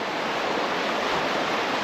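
A river in Ashburton rushes in a steady, loud wash of flowing water, close by and continuous with no talk.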